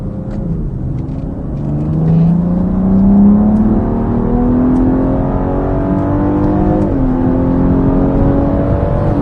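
A BMW G02 X4M accelerates hard while driving, its engine note climbing in a loud, steady rising drone with a brief dip and re-rise as it shifts, heard up close from inside without talk.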